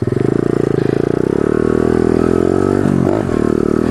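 A pit bike engine drones loudly and steadily up close during a street ride, with a rapid pulsing note and a brief dip and scrape near the end.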